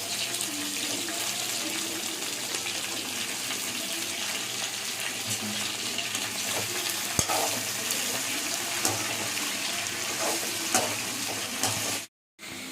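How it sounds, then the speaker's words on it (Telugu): Brinjal and barbati beans fry in a pan with a steady, broadband sizzle and occasional stirring clicks, close and continuous, with a brief dropout near the end. "వంకాయ కూడా ఫ్రై అయిన తర్వాత క్లీన్ చేసి పెట్టుకున్న బర్బాటి కూడా వేసుకొని ఫ్రై చేసుకోవాలండి"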